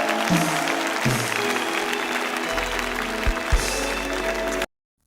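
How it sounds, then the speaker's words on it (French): A church congregation claps and cheers together, a dense crowd applause with a few low thumps, holding steady before cutting off abruptly into silence. "Que tout le monde acclame pour ces âmes sauvées"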